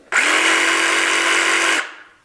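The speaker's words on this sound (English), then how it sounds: "when you release the trigger, the blade stops moving instantly" A cordless jigsaw runs at a steady high-pitched buzz for under two seconds, loud and close, then cuts off abruptly as the trigger is released, leaving only a short fading tail.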